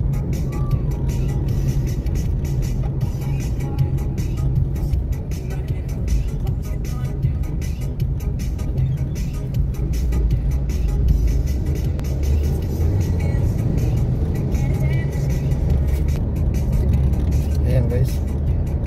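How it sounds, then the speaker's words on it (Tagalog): Heavy road traffic on Rocker Road, with a steady dense rumble of many cars and larger vehicles passing close by throughout, loud and continuous with no break. "Dami mga sasakyan."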